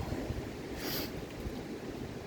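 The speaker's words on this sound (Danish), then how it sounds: "Der blæser helt vildt." Strong wind blowing outdoors at a forest shelter campsite, a steady loud broadband rush with gusty low rumble throughout, no voices.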